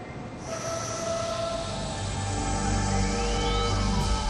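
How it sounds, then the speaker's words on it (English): A Transrapid maglev train moves along its guideway, a steady rising rush of noise with high whining tones that builds in loudness as it approaches. "The maglev train is propelled and braked by a synchronous, long-stator linear motor."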